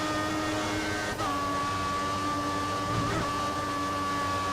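An F1 car engine from the F1 2014 racing game drones at a steady high pitch, continuous and loud throughout, with one brief dip in revs near the start.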